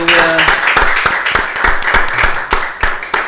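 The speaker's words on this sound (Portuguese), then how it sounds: "Isso é palmas para Virgínia." A live audience claps for the guest Virgínia at a church children's ministry gathering, with steady applause throughout and sharp individual claps standing out near the microphone, and a voice briefly heard at the start.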